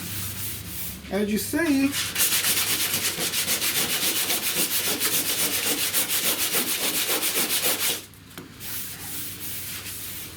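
A red scuff pad scrubs heavy rust off the hood of a 1970 Buick Wildcat, giving a steady, loud rasping rub that runs for several seconds before stopping abruptly, with a few spoken words near the start.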